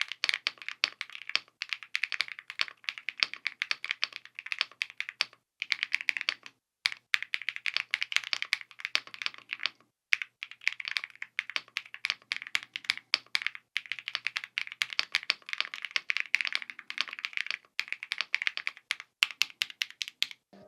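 Rapid, continuous keystrokes on an Expert GMK67 mechanical keyboard with an aluminum case, crisp clacky presses with a few brief pauses, close and alone.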